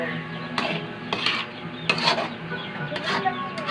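Spoon stirring paksiw na puso ng saging (banana blossom stewed in vinegar) in a pot, with a few scraping, clinking strokes against the metal over a low simmering bubble.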